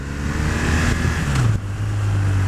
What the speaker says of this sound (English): Sounds like a little rev bomb.